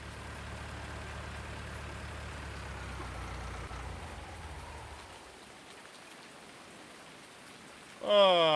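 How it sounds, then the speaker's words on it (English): Steady rain patters on a surface in Farming Simulator 19, with a low engine idling beneath. Around the midpoint the rumble drops away, leaving a thinner hiss. A brief burst of a different sound closes the clip. "Oh, the rain, the rain."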